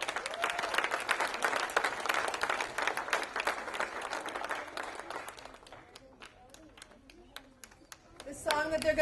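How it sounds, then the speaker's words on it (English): An audience at an outdoor Hanukkah menorah lighting applauds children coming forward to sing: dense clapping that thins into scattered claps, with a voice speaking briefly near the end. "let's give them a round of applause."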